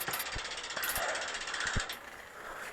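A road bike's derailleur shifts gears, giving a few sharp mechanical clicks, and the chain rubs steadily against the front derailleur cage as the cranks turn, close up over a continuous whirring drivetrain.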